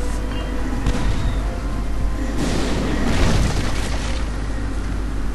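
A deep cannon blast booms in the Lego Pirates of the Caribbean video game, a low rumbling explosion swelling over a steady background of game ambience with no talk.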